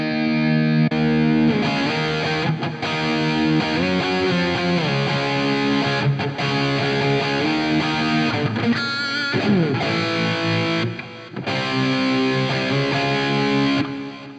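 Distorted electric guitar through an Ampero Mini modelling a Bogner amp with its cabinet simulation switched on, playing a continuous loud riff of chords and notes with brief pauses.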